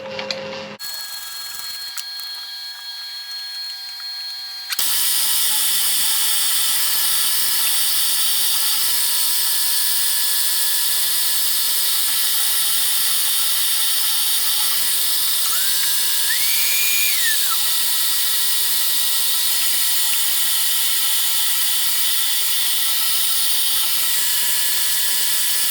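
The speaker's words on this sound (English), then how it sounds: "So all we're going to do is go ahead and get our 4 pilot holes put in, do it on our X and Y." A milling machine drills pilot holes in workpieces clamped in a vise, a steady high-pitched whine running throughout after a short quieter start, with a brief pitch rise partway through.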